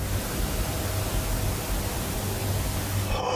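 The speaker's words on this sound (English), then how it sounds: "They continue the conversation using the spirit box and receive a strange audio response that I've never heard on the device before." A ghost-hunting spirit box hisses with steady, dense static noise throughout, loud and unbroken, cutting off abruptly at the very end.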